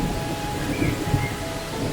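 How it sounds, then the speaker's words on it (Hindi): Steady rain pours with low rumbling thunder beneath it, a dense continuous wash of noise with no voices. "अचानक बारिश होती है।"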